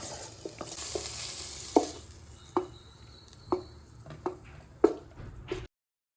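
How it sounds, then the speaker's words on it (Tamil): Paneer cubes with onion, capsicum, green and red chillies and ginger garlic paste frying in a pan, a low sizzle broken by several sharp stirring clacks of a spoon against the pan, no voices. "ஒரு பன்னீர், வெங்காயம், கேப்சிகம், பச்சை மிளகா, ரெட் சில்லி, இஞ்சி பூண்டு பேஸ்ட்டு. ஃப்ரை பண்ணி எடுத்துக்கணும்."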